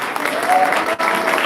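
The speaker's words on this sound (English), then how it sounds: "Round of applause," Audience applause for a tabla player at a musical evening, a dense, steady wash of clapping from a crowd lasting the whole moment, with a brief dip near the end.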